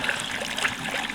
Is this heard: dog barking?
no